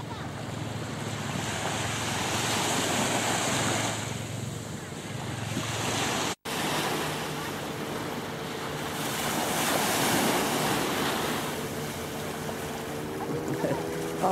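Sea waves wash onto a beach in Thailand in long rolling surges, a broad hissing roar blended with strong wind buffeting the microphone, steady throughout with a brief cut midway.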